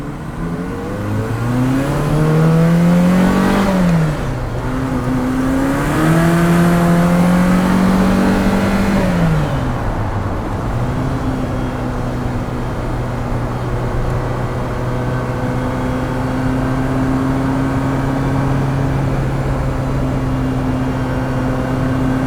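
A 1985 Ferrari 288 GTO engine is heard from inside the cabin while driving, loud and steady, rising twice through the revs, dropping with gear changes, then holding a long even drone.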